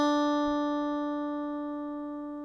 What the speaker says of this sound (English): it will play an E that slides down to, in this case, the D.